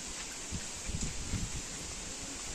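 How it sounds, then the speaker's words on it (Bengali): Gusty wind buffeting and rustling nearby, with a couple of stronger swells in the middle of a brief stretch of blowing air. "ভীষণ হাওয়া দিচ্ছে, খুব সুন্দর লাগছে।"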